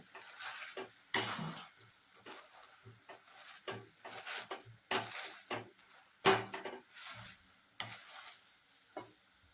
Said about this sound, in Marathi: आता हे आपण थोडेसे पोटॅटो स्मॅशरने थोडेसे असे दाबून घेऊया.